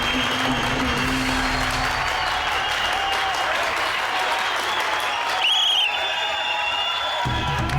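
Sustained, vigorous clapping from spectators at a dangal wrestling bout rolls on evenly, with a commentator talking over the applause and a brief burst of cheering near the end.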